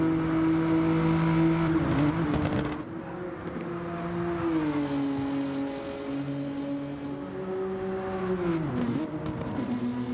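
Race cars in Gran Turismo 7 during a BTCC replica championship race, with a sustained close engine drone that shifts pitch through gear changes and revs, steady and loud, with no talk.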